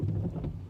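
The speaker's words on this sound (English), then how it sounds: "It's raining." Rain falls steadily on and around a parked car on a freezing day, a continuous soft patter heard from inside, close and even in level with no talking.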